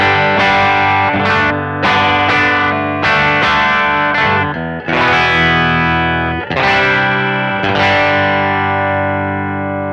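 An electric guitar played through a Kemper profile of the bass channel of a '63 B-Man amp, giving loud driven chords and picked notes with sharp attacks and ringing sustain, heard alone.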